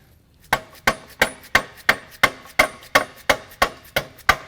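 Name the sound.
hammer tapping on a bearing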